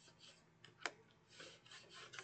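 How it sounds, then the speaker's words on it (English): Paper being rubbed flat with a burnishing tool along the folded ends of a handmade paper craft organizer, a very faint, close scraping and rasping with one sharper tick, nobody speaking. "And then I'll burnish the ends here to make sure that everything is nice and flat like that."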